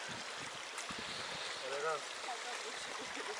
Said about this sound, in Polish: No, typowo górski strumyk. Płynie, zobaczcie.